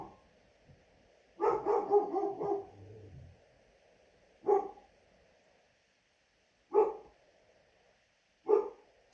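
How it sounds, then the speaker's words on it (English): A dog barks at the postman: first a quick burst of several sharp barks close together, then single loud barks every couple of seconds, heard fairly close indoors with no talking. "I'm just pausing because my dog is barking at the postman."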